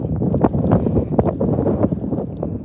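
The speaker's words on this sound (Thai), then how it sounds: "ลมแรงหนาวค่ะทุกคน" Strong, cold wind buffets the microphone while someone cycles home through the countryside, a steady gusty rumble with no pauses.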